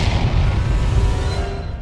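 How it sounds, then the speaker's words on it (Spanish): A C4 charge set off by a detonator erupts in a loud, dense, continuous roar of blast noise that fills the short moment before slowly easing off. "James desde su escondite aprieta el detonador y la explosión fue enorme."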